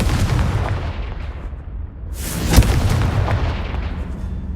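Casting the Confringo blasting spell in the video game Hogwarts Legacy sets off a single loud, sharp explosion midway, bursting out of a low rumbling background and then fading back into it.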